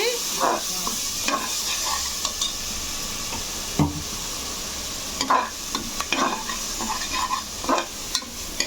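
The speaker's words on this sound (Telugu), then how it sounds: "మటన్ వేస్తున్నాను." Mutton frying with ginger paste in a pan makes a constant close sizzle, broken by repeated scraping stirs and a few sharp clinks of the utensil against the pan.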